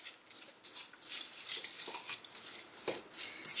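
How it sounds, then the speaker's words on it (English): A tuna cake mixture gets stirred in a bowl, with steady scraping and soft clinking that carries on for several seconds, close and fairly quiet, no voices. "I'm going to give that a stir"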